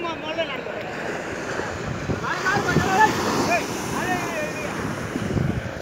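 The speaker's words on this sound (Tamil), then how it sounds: "நடுவில் அலை வேற அப்பப்போ வந்து அடிக்குது." Ocean surf rolling onto the shore at Kovalam during shore net fishing, a constant wash with gusting wind noise over the microphone and no talk.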